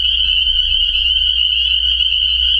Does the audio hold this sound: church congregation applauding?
no